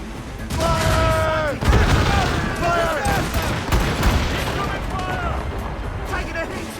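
Naval cannons in an Assassin's Creed Rogue sea battle fire in loud, rapid booming volleys with crashing impacts, while crew voices shout over the barrage.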